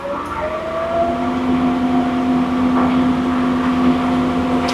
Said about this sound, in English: I'm gonna go ahead and go to full throttle.